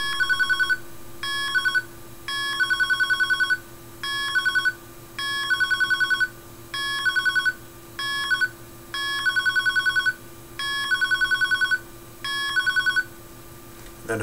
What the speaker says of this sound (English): Now we have a dial tone,